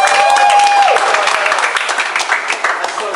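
Crowd applause breaks out for the MCs at a battle rap event, loud dense clapping at first that thins into scattered claps, with a voice talking over it.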